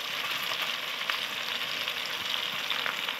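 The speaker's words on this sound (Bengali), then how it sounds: "এবার আদা পেস্ট করা আদাটা দিয়ে দেব" Ginger paste frying in hot oil in a small pan, a steady close hissing sizzle with faint crackles and occasional light stirring, no talking.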